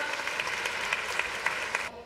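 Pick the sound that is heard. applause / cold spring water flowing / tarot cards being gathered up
applause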